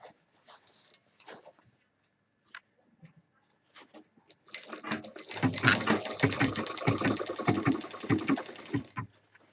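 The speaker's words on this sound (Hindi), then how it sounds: "ये इसकी सिलाई और इस बैग की सिलाई को एक साथ सिल देंगे" A sewing machine stitches a handbag seam, starting with a few faint taps and short runs, then a continuous close mechanical whirring run for several seconds.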